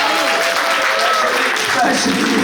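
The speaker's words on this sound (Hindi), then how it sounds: "जोरदार तालियां यार सबके लिए" An audience at a Diwali celebration with a bhangra dance group applauds in a dense, continuous wash of clapping and crowd noise, loud and close, with voices mixed in.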